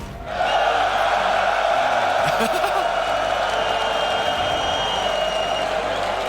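A large arena crowd in Rotterdam at an RLCS Rocket League esports semifinal roars and cheers continuously, a dense wall of voices with scattered whoops, loud and sustained from start to finish.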